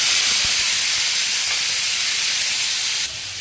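Dried chili and panch phoron spices sizzle loudly in hot oil close to the microphone, a steady bright hiss that eases off slightly near the end.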